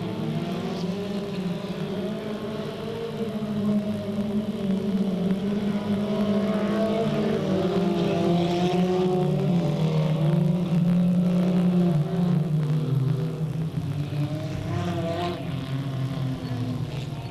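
Race cars roar around Delta Speedway on the final lap, a loud, continuous drone of engines that swells and shifts in pitch as the pack passes.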